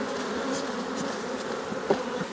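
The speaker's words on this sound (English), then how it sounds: "The way to shake the bees is put the frame in the hive body and then just shake it there" Honeybees buzz in a steady dense drone as a frame is shaken into the hive body, with one brief knock partway through.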